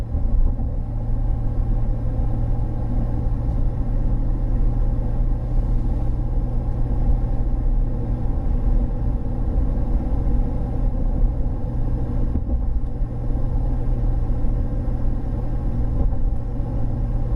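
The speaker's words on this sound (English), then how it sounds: "That's just all turbo. That turbo brake really works really well." A truck with a 30-inch FTE resonator exhaust drives along with its turbo brake working, giving a steady, deep engine rumble that drones on continuously with little change and no talking.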